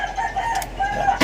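A rooster crows at a home where papayas grow, its call rising over a steady background hum, close and fairly loud, with no talk.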